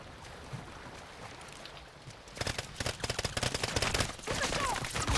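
Gunfire in a Call of Duty-style video game on Ashika Island starts after quiet ambience as rapid bursts of distant-to-mid shots, dense and crackling, continuing to the end.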